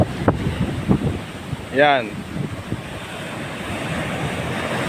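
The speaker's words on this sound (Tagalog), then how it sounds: "Ayan oh, laki ng alon oh." Big ocean waves roll in at Sulangan lighthouse, a steady wash of surf with wind buffeting the microphone, and a voice briefly speaks over it.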